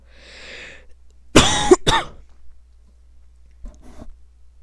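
Two sharp, close coughs in quick succession, loud and abrupt, followed by quiet with a softer rasp later.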